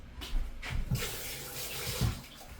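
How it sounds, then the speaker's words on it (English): Hands are rinsed under a running tap at a kitchen sink, a steady close splashing stream with soft shifts as the hands move, and no talking. "Let me wash my hands."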